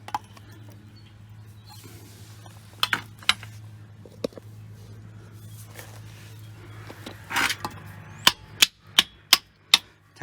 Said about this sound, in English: We're gonna have to tap those out with a hammer.